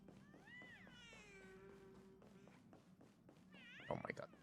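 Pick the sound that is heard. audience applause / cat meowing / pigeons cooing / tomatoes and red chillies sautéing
cat meowing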